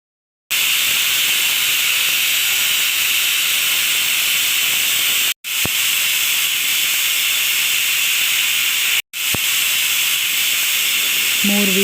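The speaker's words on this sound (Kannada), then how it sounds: "3 ವಿಸಿಲ್ ಆಗೋವರೆಗೂ ವೆಯ್ಟ್ ಮಾಡಬೇಕು." A pressure cooker cooking egg rice lets out a loud, sustained high-pitched steam whistle and hiss, close and continuous, broken by two brief cutoffs before resuming at full strength.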